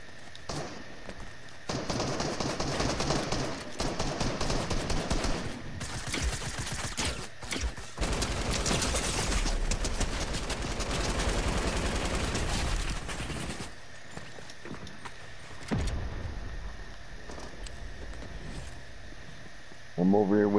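Gunfire in the video game Fortnite, sustained rapid bursts of shots crackling for long stretches, loud and close, with people talking over the action.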